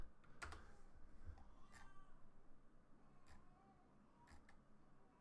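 Keys clack on a computer keyboard in a quiet room, a few sparse, faint taps spread out with pauses between them. No one speaks.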